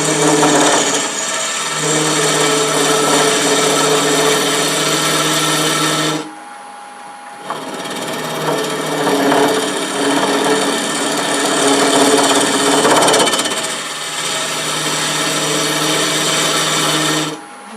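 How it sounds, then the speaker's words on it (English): Scraper cutting wood on a lathe while turning a pillar candle stick: a steady, loud rasping scrape with a constant motor hum, stopping briefly around the middle before the cut resumes and runs on. "We're going to come back with a scraper. See if I can't ride that bevel a little bit here."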